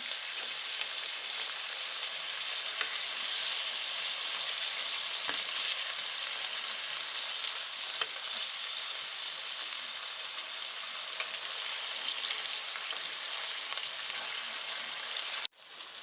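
Chicken pieces frying in ghee over medium heat, a dense, even sizzle and crackle that stays constant and close for the whole stretch, cutting off abruptly at the end.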